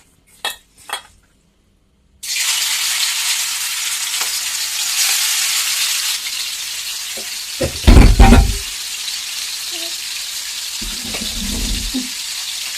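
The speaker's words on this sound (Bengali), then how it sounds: "আমার তেলটা গরম হয়ে গেছে, এবার আমি চিকেনটা ছেড়ে দেবো এর মধ্যে" Chicken drops into hot oil in a small kitchen pan with the chimney fan off, setting off a loud, steady sizzle, preceded by a couple of knocks and followed by clattering and scraping of utensils against the pan.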